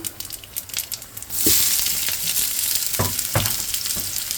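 Whole spices dropped into hot oil for tempering in a Bengali vegetable khichuri, a sudden loud burst of crackling sizzle that keeps hissing, with a few sharp pops and clatters and no talk.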